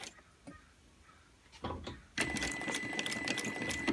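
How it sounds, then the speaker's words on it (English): A sewing machine stitches an invisible zipper close to its coil, starting with a few quiet isolated needle taps before breaking into a steady, loud run of rapid stitching that continues to the end. "sink in the needle and backstitch"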